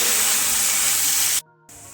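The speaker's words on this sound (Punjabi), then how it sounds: "ਹੁਣ ਆਪਾਂ ਇਹਦੇ ਵਿੱਚ ਅਰਬੀ ਨੂੰ ਪਾ ਦੇਵਾਂਗੇ ਅਰਬੀ ਨੂੰ ਆਪਾਂ ਹੁਣ ਤਲ ਲਵਾਂਗੇ" Taro (arbi) pieces dropped into hot oil set off a loud, steady, broadband sizzle. The hiss cuts off abruptly near the end, then resumes more quietly.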